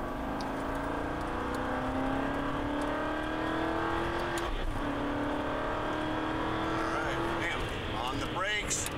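An Aston Martin V8 Vantage pulls hard under full throttle, its engine pitch rising steadily before dropping at a gear change around 6,000 RPM and climbing again, with a voice talking over it.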